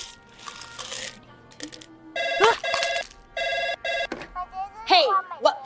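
A telephone rings in repeated electronic trills, loud and close, mixed with voices and other sounds before and after the rings.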